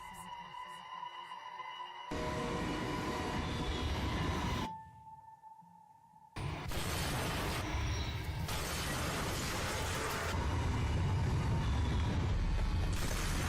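An L train subway in a game trailer rushes past with a loud roaring, rattling wash of noise, broken by a short quiet gap with a steady tone before the rumble resumes and swells.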